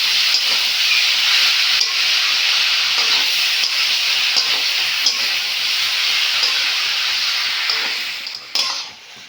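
Banana flower and potato stir-fry in a hot pan, a dense, continuous sizzle with light scraping of stirring throughout, easing off and briefly dropping away near the end.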